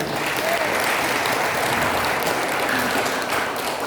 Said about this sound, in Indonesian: beri aplaus semoga meriah